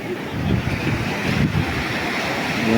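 Sea waves wash steadily onto the beach at Cox's Bazar as a broad, continuous surf roar. Wind buffets the microphone throughout.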